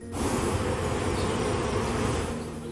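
Dense, loud bee buzzing fills a bee farm on rural land outside an Oklahoma metro, a steady swarming hum that starts abruptly and continues without voices.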